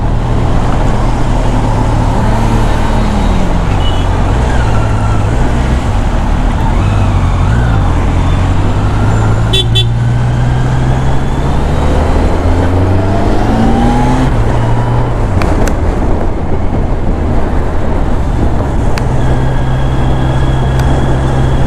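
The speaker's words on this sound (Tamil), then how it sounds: "இவ்வளோ டிராஃபிக்காக இருக்குது" Dense road traffic around a motorbike rider in midday city streets after rain, a loud continuous roar of engines and tyres with passing vehicles and occasional horn-like tones throughout.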